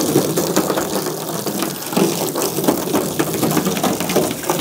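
Water rinsing Cerakote Rapid Ceramic coating off a car, a steady hissing spray and splash running continuously at close range with no talk.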